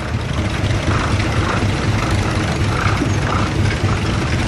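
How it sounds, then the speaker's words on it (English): A vintage steam traction engine runs at a tractor parade, giving a loud, steady mechanical rumble with a faint rhythmic low pulse beneath a dense wash of noise. "steam traction engine owned by my son Joshua Ritchie"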